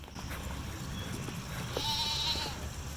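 Goats at a farm goat pen give a faint, brief bleat or two over quiet outdoor ambience, heard from a short distance.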